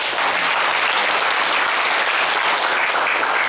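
Members at a hometown association's annual general meeting and New Year gathering applaud to approve an agenda item, a full, continuous round of clapping from the room.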